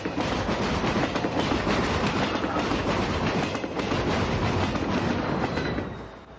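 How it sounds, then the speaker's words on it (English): A southbound commuter train rolls across the Union Pacific Anaheim Bridge near Fullerton, a loud, steady rumble and clatter of wheels that holds for several seconds and then begins to fade. "A southbound commuter crosses the Union Pacific Anaheim Bridge at Boston just before reaching Fullerton."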